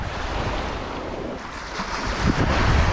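Waves of the Baltic Sea wash continuously onto the shore, a loud, steady surf roar with gusting wind buffeting the microphone and a swelling surge near the end.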